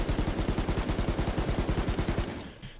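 Rapid automatic rifle fire from the Vandal in Valorant, a steady high-rate burst of about two dozen evenly spaced loud shots that ends with a brief fading tail.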